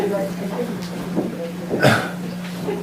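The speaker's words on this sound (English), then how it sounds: "I have a little bit of cough." A person coughing and clearing their throat during a school board meeting, a couple of short rough bursts over a steady background hum with faint talk nearby.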